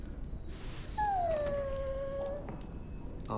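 A dog in the Dragon Age Origins video game gives a drawn-out whimpering howl that slides downward, heard close over a low, steady game background.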